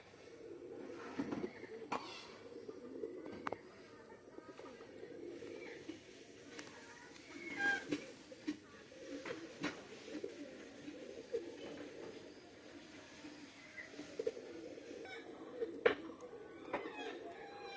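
A pair of Oman pigeons, a male and a female, give soft, low repeated coos with some faint shuffling and small clicks nearby. The sound is quiet and continuous, with no clear speech.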